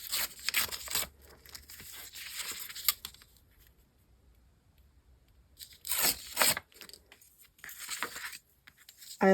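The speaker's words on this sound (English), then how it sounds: "I like to tear off the sides." Paper pages from a math-style book being torn along the edges, two separate bursts of ripping with a quiet pause between them, close and crisp with no talking.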